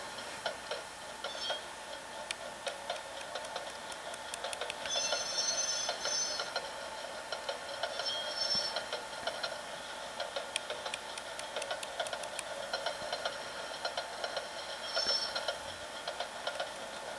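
Soundtraxx Tsunami decoder locomotive sound in a model train, a steady mechanical ticking and engine hum that swells at moments as the throttle rises, fairly quiet throughout.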